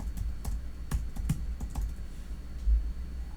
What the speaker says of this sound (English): So we could type trimyristin